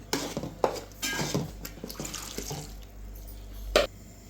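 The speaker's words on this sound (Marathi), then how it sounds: "पाणी घालतोय मध्ये आता" Water is poured into an onion-tomato fish curry masala in a pan, heard as close splashing and pouring bursts mixed with a few metal clinks of utensils against the cookware.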